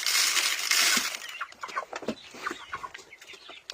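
Young chickens cluck and peep in a village farmyard in late autumn, with scattered short calls and rustling close by, plus a brief burst of hiss at the start.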